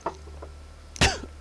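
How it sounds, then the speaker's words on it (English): Short throaty coughs and splutters after a sip of strong tea, one brief burst early, then a louder harsh cough with a follow-up catch near the end, close to the mic over a steady low hum. "Apologies for the coughing and spluttering"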